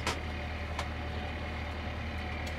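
Steady low engine hum of a sailboat motoring under engine power on a calm, windless sea, continuous and moderately quiet with a few brief clicks.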